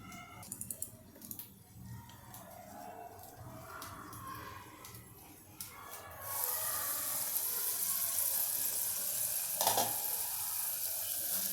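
Oil sizzles in a pan while Khandeshi brinjal bhurta cooks, starting with quiet clinks and stirring, then a loud, steady frying hiss sets in and continues to the end, with a sharp crackle near the close.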